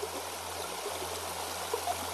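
A river flows past a rock, giving a steady, broad rush of water with soft trickling detail at a moderate distance. No voices are heard over it.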